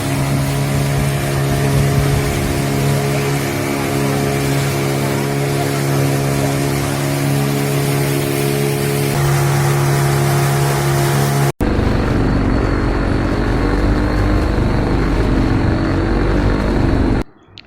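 A tourist motorboat motors across Pykara lake, a loud, steady engine drone with strong humming tones that shifts abruptly to a rougher, windier roar of engine and water for the last few seconds, with no talk.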